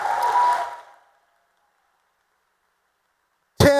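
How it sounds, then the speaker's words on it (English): Audience applause in the Texas Senate chamber, already underway and quickly fading out within about a second, followed by a long silence before a voice starts speaking at the very end. "Give him a round of applause for that."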